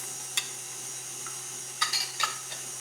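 An electric mixer whips egg and sugar for a chocolate cake batter, giving a faint, steady motor hum with a few sharp clinks of the beaters against the bowl near the end.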